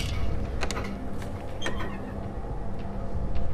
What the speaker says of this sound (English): let's just open up the fucking door